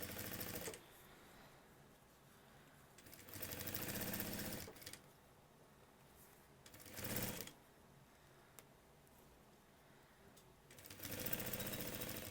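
A sewing machine stitches bias binding onto fabric in three or four bursts of rapid mechanical whirring. Quiet pauses separate the bursts, and the sound is close and fairly soft.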